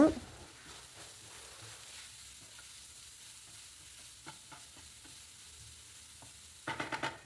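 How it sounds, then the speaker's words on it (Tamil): Carrot and beans sautéing with salt in a pan give a faint, steady sizzle with scattered scrapes and stirring clicks, then a louder burst of stirring near the end. "தேவையான அளவுக்கு உப்பு சேர்த்து நல்லா வதக்கி விட்டுருங்க."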